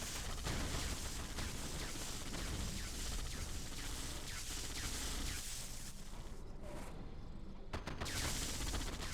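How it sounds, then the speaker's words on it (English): Dense, continuous gunfire and explosions rattle on from the Yuri's Revenge strategy game, fast overlapping bursts filling the scene loudly with only a short dip near the end. "Yeah, they're shooting, yeah."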